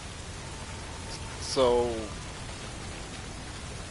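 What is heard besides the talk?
rain weather effect in the video game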